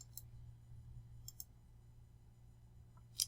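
Mouse clicks while working in Microsoft Word, several small sharp clicks spaced apart, a pair near the start, another pair in the middle and a last one at the end, close and crisp over a low steady electrical hum.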